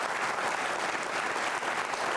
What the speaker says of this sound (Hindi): सबसे पहले उनके सम्मान में जोरदार तालियां बजाइए।